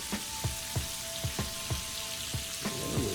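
Southern fried chicken cooks in hot grease, giving a steady sizzle punctuated by regular low thumps roughly every third of a second.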